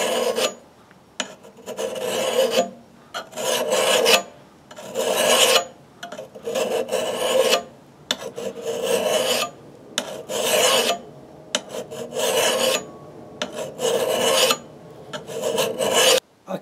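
A file is pushed along an axe edge to sharpen it, making a steady series of loud, close rasping strokes, each about a second long and separated by short pauses, with no voices.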